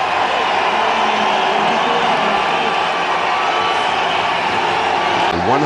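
Spectators at a 2008 India vs Australia cricket test in Bangalore roar loudly for Sachin Tendulkar's arrival at the crease, a constant distant wall of crowd noise.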